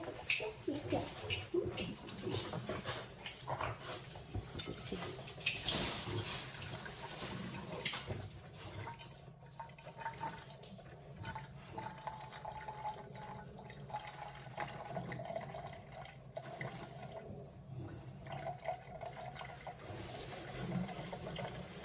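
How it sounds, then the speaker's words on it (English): A Cuisinart single-serve coffee maker brewing, giving a steady gurgling, dripping and hissing of hot water that runs on and on, close by, with a person talking over it now and then. "It's making my wonderful coffee."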